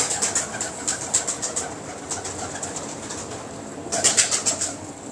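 A large pigeon coos in soft, repeated pulses over a steady background hiss, with a denser burst of calls near the end.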